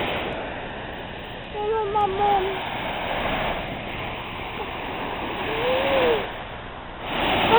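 Sea waves coming in at the shore in Arenys, a broad wash of surf swelling and receding, with faint voices and calls mixed in around it.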